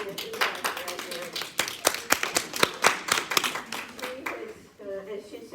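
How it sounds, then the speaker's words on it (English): A small seminar audience claps together in a brisk, uneven burst of applause that gradually thins out toward the end. "I want us to give a round of applause to Brielle"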